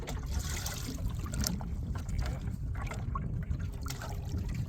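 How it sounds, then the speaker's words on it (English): Water is poured into a bucket while fishing for crappie in autumn, a steady, close splashing and gurgling rush that continues without a break and with no talk over it. "I'm put some water in the bucket"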